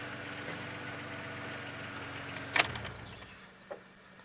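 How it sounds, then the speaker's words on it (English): A safari vehicle's engine idles at a low, steady hum some distance off, with a few sharp knocks and clicks breaking in near the end. "I can hear a vehicle."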